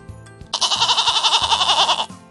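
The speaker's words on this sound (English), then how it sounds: "G is for goat." A goat gives one loud, quavering bleat lasting about a second and a half, close up, over quiet background music.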